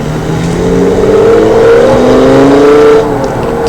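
A supercar engine in the BeamNG.drive racing game revs hard and steadily, its rising harmonic whine loud and close, then eases off slightly near the end with no talking.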